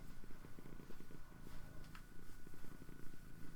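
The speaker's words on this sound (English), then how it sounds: "She's still purring." A cat purrs close by in a steady, rumbling rhythm of soft pulses, continuous throughout with a faint background hum.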